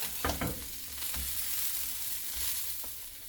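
Beef birria tacos fry until crispy, a soft continuous sizzle with a few scraping stirs and taps near the start, fairly quiet and without speech.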